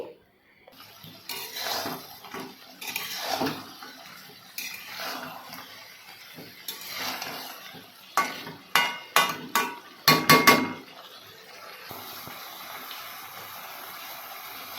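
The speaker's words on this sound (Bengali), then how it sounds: "মাংসটাও দেখো এদিকে নেড়ে চেড়ে রান্না করছি" Meat for biryani stirred in a pot, with scattered scraping and clattering strokes of a metal spoon that speed into a quick burst of rhythmic clanks, followed by a soft steady hiss.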